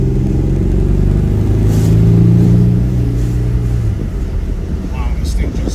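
A 1989 Pontiac Turbo Trans Am cruises down the road, its engine a smooth steady rumble that swells briefly and then eases off, with the road noise close and continuous.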